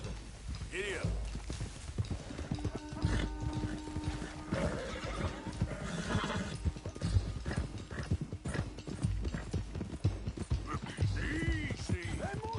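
Hooves clip-clop rapidly as a loose stallion gallops in Red Dead, with repeated whinnies and neighs rising over the hoofbeats, while people shout and talk throughout.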